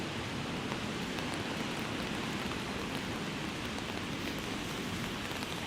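Steady rain falls on a Toronto city street on a wet afternoon, a dense, even hiss of drops on pavement that stays constant throughout, with no voices.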